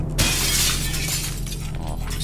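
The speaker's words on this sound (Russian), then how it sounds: "стекла выламывают, судя по всему, на первом этаже" Glass windows shattering on a building's ground floor in the zombie survival game Project Zomboid: a single sharp, loud crash early on, followed by a sustained low hum of game ambience with no talking.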